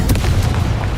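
A fire spell blast in the video game Hogwarts Legacy, a loud booming burst up front that rolls on as dense, continuous rumbling and crackling noise throughout the short moment.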